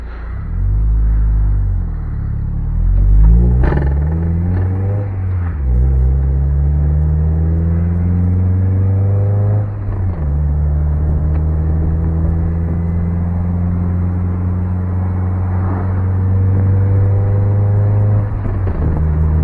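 Mazda Miata engine droning steadily from inside the car, its pitch climbing and dropping through several gear changes, including a downshift, with continuous loud road rumble and no talk.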